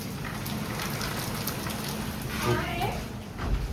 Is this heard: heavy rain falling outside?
yes